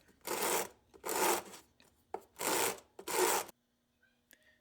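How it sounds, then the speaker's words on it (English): Sandpaper rubs over the metal surfaces of a homemade alcohol stove in four loud, even strokes about a second each, close up and alone, followed by a quiet pause with a faint tap. "So then I just use some sandpaper to clean up the surfaces and make everything flat."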